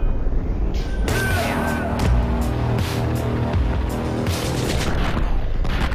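Gunfire and bullets being deflected in the action game Katana Zero, heard as a dense run of loud booming shots and impacts over a constant game soundtrack.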